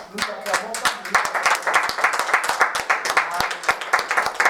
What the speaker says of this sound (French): давайте мы будем аплодировать Господа